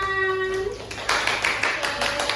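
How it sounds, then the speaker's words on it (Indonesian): A classroom of students claps for a presenting group, a short ragged burst of hand claps rising after a sustained tone fades out. "Tepuk tangan."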